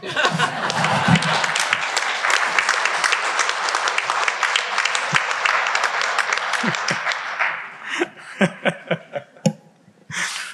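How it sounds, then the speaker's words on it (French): An audience at a regional community event in Quebec gives sustained applause that thins into scattered individual claps near the end, then fades out. Some laughter and murmuring mix in. "Ça aurait été bon que vous applaudissiez là-dessus."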